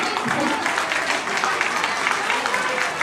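An audience of mothers at a Mother's Day celebration claps steadily, a continuous wash of applause at fairly loud level with a faint murmur of voices beneath.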